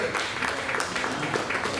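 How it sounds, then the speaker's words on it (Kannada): Audience applause at an evening music event, a dense, steady patter of many hands clapping at moderate loudness, mixed with some crowd voices. "ಜೋರಾದ ಚಪ್ಪಾಳೆ ಬರಲಿ"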